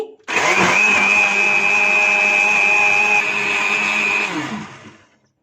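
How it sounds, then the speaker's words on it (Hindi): A blender runs at high speed, whirring plums into juice: a loud, steady motor whine that starts abruptly, holds for about four seconds, then winds down and stops. "इसे हाई स्पीड पे ब्लेंड कर लेंगे।"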